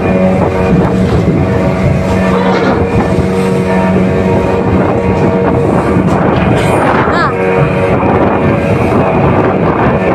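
Strong wind buffets the microphone at Jolo port during a collision between two ships, a loud continuous roar and rumble with excited voices mixed in.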